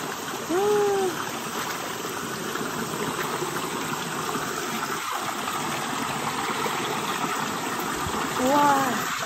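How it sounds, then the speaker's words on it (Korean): A cold mountain-valley stream runs steadily and close by with a broad, constant rush of flowing water while feet are dipped in it; a brief bird or voice-like chirp rises near the start and again near the end. "계곡물에 발 담그고."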